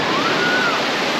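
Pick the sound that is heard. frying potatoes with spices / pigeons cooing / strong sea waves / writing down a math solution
strong sea waves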